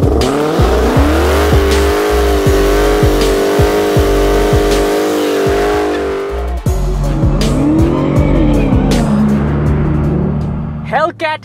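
A 2020 Dodge Challenger SRT Hellcat Widebody with a 6.2-liter supercharged Hemi V8 roars loudly while driving, climbing through several gear shifts with rhythmic engine pulses and tire squeal, then easing off, with a voice talking over it.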